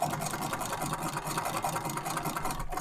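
A Franklin treadle sewing machine runs at a steady pace, giving off a continuous whirring, rattling mechanical sound close up with no pauses.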